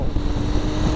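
A Kawasaki Z900 motorcycle engine running at a steady, loud, close drone with a low rumbling tone, continuous for a moment with no voices.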